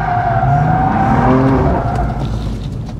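A BMW M4 GTS drifting, its engine roaring loud and close in a sustained, steady howl with tire noise layered underneath, the pitch rising and falling slightly without a break.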